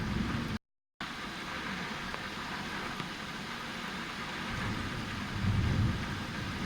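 Heavy rain during a severe storm over a suburban cul-de-sac, a steady broadband hiss of downpour with a brief dropout near the start and a low rumble building toward the end.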